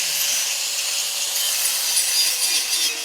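An axe blade held against a spinning grinding wheel at a rural market, a continuous loud, gritty hiss and scrape of steel on stone, steady throughout with no talking.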